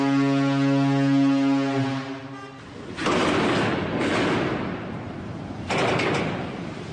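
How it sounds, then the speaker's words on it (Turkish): A deep, loud ship's horn blast with steady low harmonics sounds for about two seconds, followed by heavy rumbling, booming noise in bursts, as the ship runs aground in the Bosphorus near Rumeli Hisarı. "Siren sesini duyduk."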